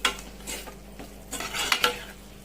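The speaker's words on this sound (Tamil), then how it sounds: "ஒரு 2 நிமிஷம் ஃபுல்லாக கேஸ் ஆன் பண்ணிட்டு வதக்கி விட்டுக்கலாம்" Chicken with curd is sautéed over a full gas flame, with a few quiet spoon scrapes and clinks against the pan over a faint background sizzle.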